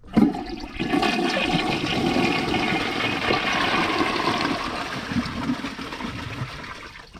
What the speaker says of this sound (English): Anyways, let's give it a flush.